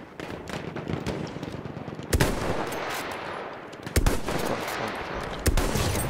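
Steady distant small-arms and machine-gun fire crackles through a hardcore-mode World War I battle in Battlefield 1, with a few sharper, louder shots standing out from the constant rattle.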